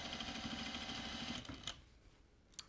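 Sewing machine stitching a sleeve placket on a two-piece sleeve, a quiet fast mechanical whir for about a second and a half, then stopping, followed by a couple of faint clicks.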